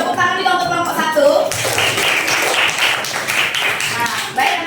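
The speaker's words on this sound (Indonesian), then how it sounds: "Tepuk tangan juga untuk kelompok 1." Schoolchildren in a classroom clap for a student group, a dense burst of many hands that starts after a brief adult voice and continues steadily to the end.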